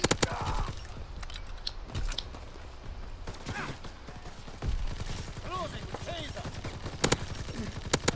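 Type 100 gun fired in a multiplayer video game while picking off enemies near a base: irregular bursts of gunfire and scattered single shots over steady game noise, moderately loud, with no talking.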